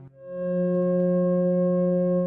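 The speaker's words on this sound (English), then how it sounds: "They are F sharp and its perfect harmonic fifth of C sharp." A steady pure electronic tone sounds F sharp and C sharp together, forming an open fifth that holds evenly after a brief start.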